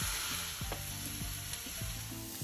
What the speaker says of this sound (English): in a clean pan, we add in our oil and we put in our minced meat